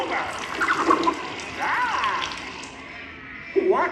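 Water sprays and splashes in bursts during a 3D theme park show, mixed with voices, sound effects and swooping tones from the show.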